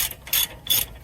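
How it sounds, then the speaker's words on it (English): A ratchet with a 15mm socket works loose knuckle bolts, giving two quick close clicking bursts of the pawl, crisp and short with a brief gap between them. "To remove the two knuckle bolts, you'll take out your 18mm wrench and your 15mm socket, using the wrench to hold and the socket to remove."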